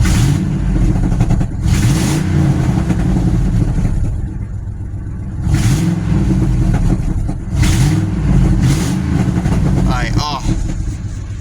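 A car engine revving after an exhaust repair, with a steady idle rumble broken by several loud revs, one every couple of seconds, close by.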